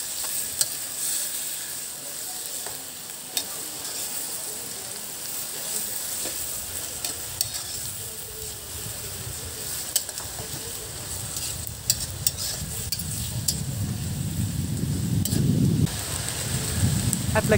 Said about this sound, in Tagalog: Haluin upang manuat ang bango.